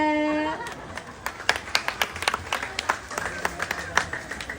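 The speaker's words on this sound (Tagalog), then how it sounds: "Palakpakan naman po kayo, kaunta" Scattered audience clapping at a pride pageant's national costume showing, individual claps popping out in an uneven stream after a brief sustained tone, with a light crowd murmur underneath.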